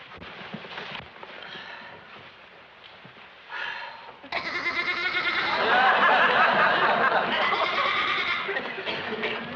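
Sheep bleating indoors in a domestic sitcom scene, a few wavering bleats rising over quieter background sounds and people talking.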